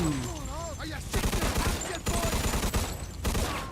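Machine gun fire in Mafia II: Definitive Edition comes in rapid, loud bursts of close shots, broken by short pauses, after a brief stretch of someone talking.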